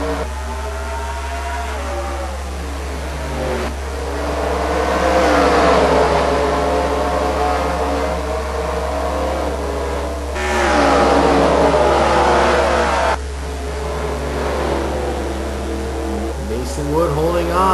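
Race car engines in a NASCAR racing video game on a tight street circuit, a loud continuous whine that rises and falls in pitch with each gear change, running under steady commentary talk.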